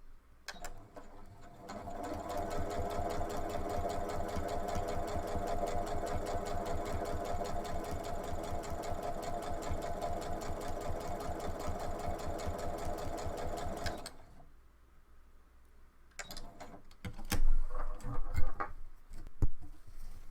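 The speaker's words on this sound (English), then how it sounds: "Focus on the white guide bar and hold the fabric lightly. Don't pull or push, and don't sew very fast also." A sewing machine top-stitches fabric in a steady, fast mechanical whir with a rapid needle rhythm for about twelve seconds, then stops, followed by a few handling clicks and rustles close by.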